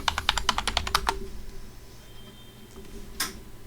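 Password being typed on a computer keyboard: a quick run of about ten crisp, close key clicks, then near quiet with one final louder keystroke.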